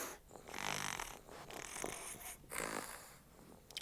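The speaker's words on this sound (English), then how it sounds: "When it's asleep." A Minecraft fox sleeping in a video game, heard as faint, breathy snoring with soft snorts that rise and fall in slow cycles. It is quiet and noisy in texture, with no voices.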